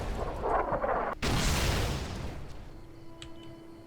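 Gunfire and explosive blasts in the video game Fallout New Vegas: a dull roar of distant booming, then a sharp crack followed by a loud rumbling burst that fades into lingering echo, with no talking.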